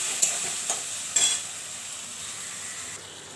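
Potato and poppy seed curry cooking in a pan after a splash of water, a soft steady sizzle with a few utensil clinks and stirs early on, fading slightly toward the end, no voices.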